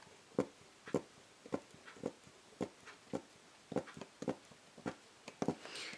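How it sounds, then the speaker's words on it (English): A punch needle goes through fabric in a regular, close rhythm of about a dozen crisp click-pops, each one short and distinct against quiet surroundings. "When you're punching, you'll hear a little bit of a click pop."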